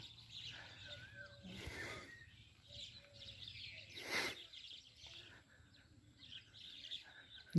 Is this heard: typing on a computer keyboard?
no